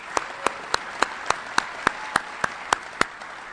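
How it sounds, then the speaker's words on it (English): A single person claps steadily and evenly, about ten sharp claps close to the microphone, in thin applause for Hall of Fame inductees at a Galesburg induction ceremony. "And let's give them a nice round of applause again."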